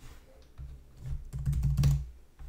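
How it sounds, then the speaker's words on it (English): Irregular clicks and taps of typing on a computer keyboard, close by and moderately loud, building into a denser flurry of keystrokes with no speech. "Well, I was typing."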